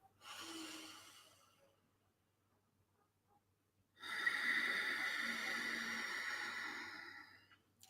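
Ujjayi breathing: a throat-constricted breath drawn through the nose, heard as two soft, hissing, ocean-like breaths, a short one at the start and a longer one after a pause, close and quiet.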